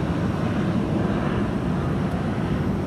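An airplane takes off from London Heathrow, a steady, loud, broad roar with heavy low rumble that holds constant throughout, with no voices.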